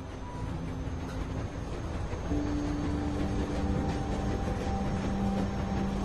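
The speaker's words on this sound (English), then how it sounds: "You need to stop the train." A train runs steadily in The Walking Dead video game, a continuous rumbling rail roll with a faint tonal whine rising partway through, heard alone without voices.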